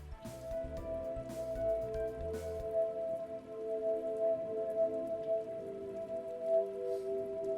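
Rain falling in the video game Rain World, a steady, moderately loud patter and hiss that continues without pause beneath sustained musical tones, with a few soft thumps early on.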